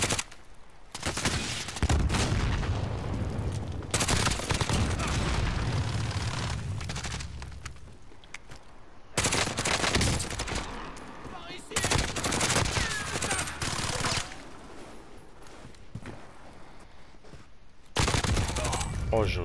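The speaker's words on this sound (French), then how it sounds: "Je me fais tirer dessus." Sustained bursts of automatic gunfire ring out in the Call of Duty Warzone video game, loud and dense in rapid volleys with brief lulls between them.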